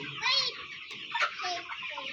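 A dense chorus of about 3,500 chickens clucking and squawking together inside a poultry shed, steady and busy with occasional louder calls rising above the flock.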